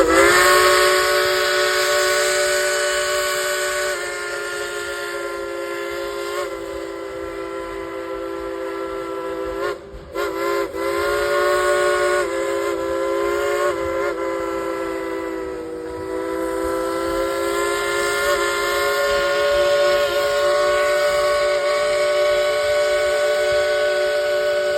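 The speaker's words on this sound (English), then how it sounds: "let's yell and tell Engineer Julie to blow the whistle" The Dollywood Express steam train at the Dollywood theme park sounds its whistle in long, loud, sustained blasts, with a brief break near the middle, close by over a background hiss.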